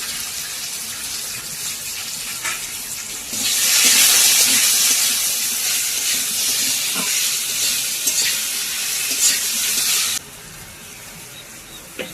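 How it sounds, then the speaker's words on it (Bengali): Potatoes fry in hot oil in a pan while being stirred, a continuous crackling sizzle that swells loudly midway and then drops back to a quieter hiss near the end. "এই দেখো আলু ভাজা রান্না হচ্ছে"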